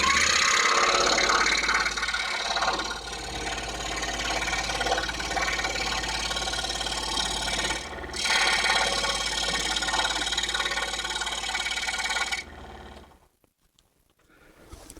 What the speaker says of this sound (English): we're going to cut using our number 7 blade right along our line and stop it right in here at this corner.